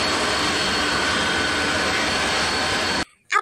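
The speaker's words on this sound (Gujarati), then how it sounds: "પ્લેન" An airplane jet engine gives a loud, continuous broadband roar that holds steady for about three seconds and then cuts off abruptly.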